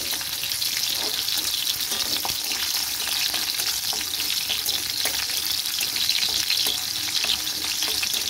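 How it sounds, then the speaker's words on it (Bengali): Garlic crackles and hisses in a pan of hot oil, a constant close sizzle with faint stirring movements and no speech. "রসুনটা একটু ভাজা ভাজা হবে।"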